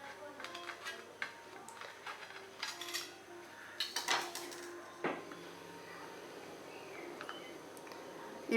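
A knife slices a cake in half inside a cake tin, producing faint scraping and clinking metal taps against the tin, with a few sharper knocks, in a quiet kitchen.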